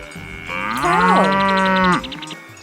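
A single loud, drawn-out cow moo, close and clear, swelling then ending abruptly after about a second and a half.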